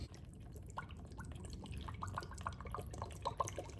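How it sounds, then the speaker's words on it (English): Seafoam fuel additive poured through a funnel into the gas tank of a 2015-2020 Chevy Suburban 5.3L, a faint, quiet run of drips and trickling liquid with irregular small splashes. "I'm going to add probably the 10 ounces left in here, and then another full, so 30 ounces total to the gas tank"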